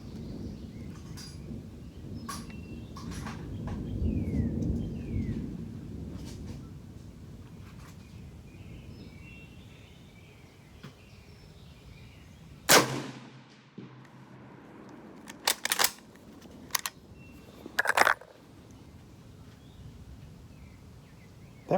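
M38 6.5x55 Swedish Mauser rifle firing at an outdoor military rifle shoot: one sharp, loud report, then several more cracks spaced a second or two apart over low wind rumble.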